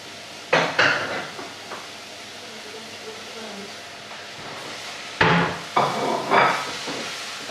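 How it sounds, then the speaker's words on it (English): Mixed peppers and mushrooms are stir-fried in a pan in a home kitchen, heard as two clusters of sharp metallic scrapes and clatters with a soft sizzle underneath and quiet stretches in between. "just stir fry that around for a minute or two"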